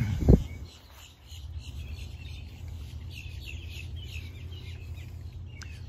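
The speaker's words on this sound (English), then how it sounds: "There's so many birds here." Many birds call and chirp faintly outdoors on a farm, scattered through a steady low outdoor rumble, after a sharp thump at the start.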